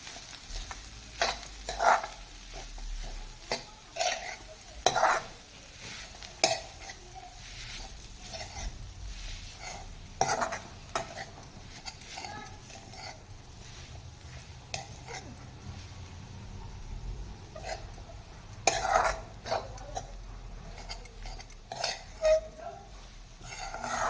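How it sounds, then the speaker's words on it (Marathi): Young jackfruit vegetable stirred into onions in a pan over a lowered flame, a soft sizzle with repeated spatula scrapes and knocks against the pan at irregular intervals. "आपण ते व्यवस्थित कांद्यामध्ये मिक्स करून घेऊया"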